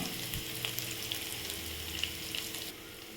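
Garlic, ginger and green chillies sauté in a pan with a constant soft, hissing sizzle and a few small ticks and pops, fairly quiet and close, with no voices.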